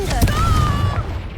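A Confringo fire spell in Hogwarts Legacy, a sharp blast early on followed by a whooshing, ringing tone that fades out within about a second.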